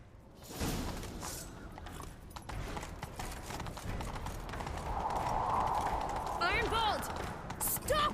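Horse hooves clip-clop steadily at a gallop in The Witcher 3, a continuous rhythmic patter under game ambience, with brief voices and a whinny-like tone near the end.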